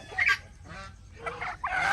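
Backyard chickens, hens, pullets and a rooster together on a farm, give loud honking cackles in short repeated bursts, close up with no talk over them.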